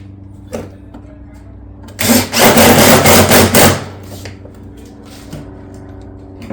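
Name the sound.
driving fasteners for a barrel vault tile ridge vent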